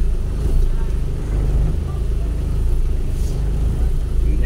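Road traffic in Iligan City rumbles continuously at moderate level, with passing cars and engine noise blending into a steady wash.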